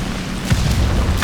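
A rocket fired from an IL-2 1941 aircraft strikes a medium tank in War Thunder: a heavy, close boom over a rumbling background, then a second, softer thud near the end.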